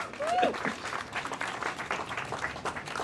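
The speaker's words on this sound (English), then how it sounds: "Give yourself a round of applause." A rally crowd outside, gathered for housing and shelter funding, applauds steadily for about three seconds, a dense wash of many hands clapping with a short whistle-like tone near the start.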